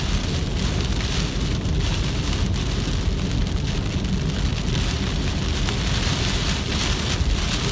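Heavy rain pounds steadily on a car driving through deep floodwater near Big Bear, a loud, dense, continuous drumming wash with a low rumble underneath and no voices.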